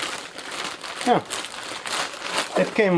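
A plastic bag crinkles and crumples up close while a delivery is unpacked, in irregular rustling bursts, with a voice briefly audible between them.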